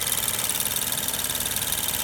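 Steady idle of a 2019 Suzuki Swift Boosterjet's 1.0-litre three-cylinder turbo petrol engine, heard close with an even, slightly knocking hum and no talking.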